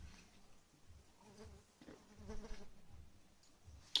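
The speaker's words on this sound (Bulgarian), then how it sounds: "Тук па има една муха, ни се върти." A housefly buzzes around indoors, a faint, wavering drone that drifts in and out at low level with no talking over it.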